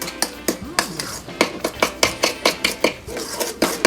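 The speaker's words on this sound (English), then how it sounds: "you're going to mix that in really well. Just mix it in like that." Slaw ingredients being mixed in a bowl, with a steady run of sharp utensil clinks and scrapes against the bowl, roughly three or four strikes per second, close and fairly loud with no talking.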